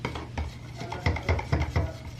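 A stick scrapes and knocks around inside a can of paint, giving soft rhythmic swishing strokes with light clunks, close and fairly quiet.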